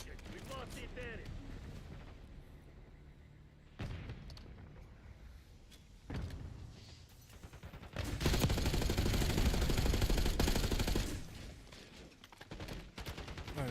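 Rapid automatic gunfire in a Call of Duty match as a whole magazine is emptied, a dense sustained burst after a few shorter shots, loud, with a voice talking at times.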